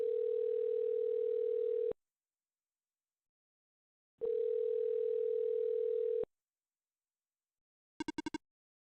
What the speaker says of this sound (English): Sounds like a real phone ring, chat.